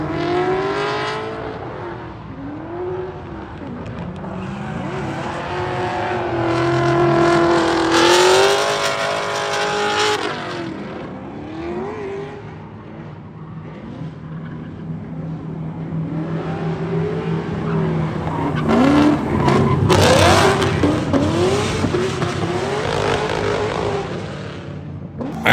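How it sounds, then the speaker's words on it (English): A loud drift car engine revs hard and shifts through gears into third near a wall at Sonoma Raceway, pitch climbing and dropping in sweeps, with a brief tire squeal near the end. "listen to this thing when I shift into third and I get close"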